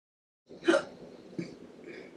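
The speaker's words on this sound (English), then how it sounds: "I have the hiccups." A single sharp hiccup bursts out, followed by a couple of smaller catches in the throat, close and quiet, with no talking.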